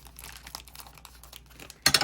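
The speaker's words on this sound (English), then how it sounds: "cut off the plastic" Plastic packaging being cut off, soft close crinkling and small clicks, ending in a sudden loud rustling burst.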